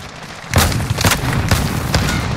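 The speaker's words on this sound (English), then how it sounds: "Allied cluster strike inbound." Repeated booming cluster-strike explosions from the video game Call of Duty Modern Warfare, in its Ground War mode: several heavy blasts land in quick succession over a dense, rumbling battle din.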